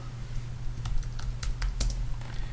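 Computer keyboard typing: a quick run of separate key clicks, some louder than others, close up over a steady low hum, with no talking.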